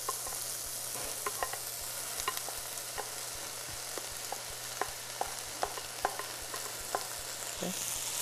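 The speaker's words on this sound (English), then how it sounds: "We're going to add our mushrooms." Mushrooms fry in a pan with a continuous soft sizzle, punctuated by occasional light clicks and taps of a utensil, close and steady with no talking.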